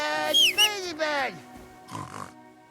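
A pig in the medieval game Kingdom Come Deliverance II gives a few quick, rising oinks and squeals close by, followed by a softer, rougher grunt after a short pause.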